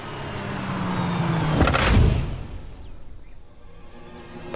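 A car draws near with a rising engine and tyre roar, peaks as it passes close by about halfway through, then fades into a softer idle rumble; no voices are heard.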